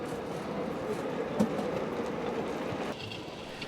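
A miniature railway locomotive on 3.5-inch or 7.25-inch gauge track runs past with a steady rumble and rattle of wheels, continuous and fairly close, with one brief clunk midway and the sound easing near the end.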